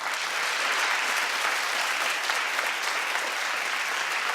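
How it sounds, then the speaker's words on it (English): Sustained applause from a large audience, dense and steady throughout. "Clap if you don't care about that music career."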